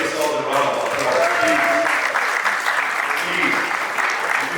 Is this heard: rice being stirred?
no